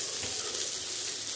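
Onion, green chili, ginger and garlic fry in a pan with a steady, close, hissing sizzle that holds unchanged throughout.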